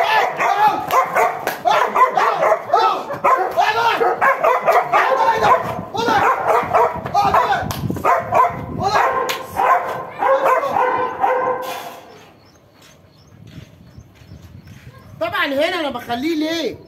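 A chained dog barks loudly and repeatedly up close in rapid bursts with its owner out of sight. After a lull, a few whimpering, yelping sounds follow.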